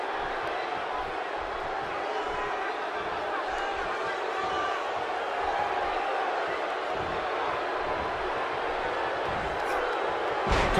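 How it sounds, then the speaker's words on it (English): A capacity arena crowd roars steadily in the WWE 2K18 wrestling game, a dense, continuous wash of cheering that swells slightly toward the end, with a commentator talking over it. "This capacity crowd is beside itself."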